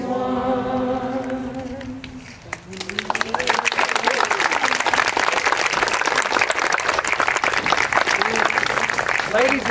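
A choir's last sung notes fade out, then an audience at an Eighth of May Emancipation celebration breaks into loud, sustained applause that carries on strongly to the end, with a voice briefly heard over it.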